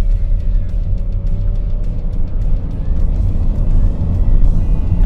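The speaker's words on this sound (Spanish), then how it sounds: "Voy a hacer aquí también prueba de aceleración para contarte in situ cómo se las gasta" Nissan X-Trail hybrid SUV accelerating hard from a standstill at full throttle, a steady loud low engine and road drone building continuously without pauses, heard from inside the cabin with no talking.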